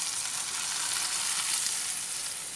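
Hot tadka tipped into a pot of pakora curry, a loud close hiss of sizzling oil that fills the clip without pause and stays steady throughout.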